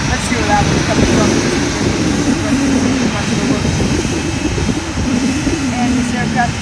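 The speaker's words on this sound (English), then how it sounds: "Our next arrival is an Embraer 300." An Embraer jet arriving at Fort Lauderdale airport makes a loud, sustained engine roar and rumble with a steady low drone, heard under people talking.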